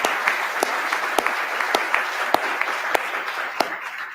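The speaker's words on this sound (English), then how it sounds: "So We can applaud for that," Steady applause from an audience at a public art discussion, a dense wash of many hands with a few sharper individual claps standing out at irregular intervals throughout.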